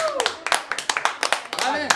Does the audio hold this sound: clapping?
yes